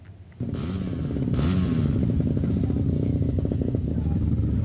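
Drag bike motorcycles rev at a street race practice in Sidoarjo, a loud raspy engine snarl starting abruptly and holding close and continuous, with throttle pulses and rising pitch over crowd ambience.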